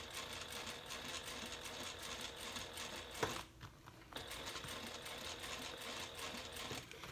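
A sewing machine quietly stitches the side seam of a handbag, a fast, even whir that stops briefly midway and then resumes.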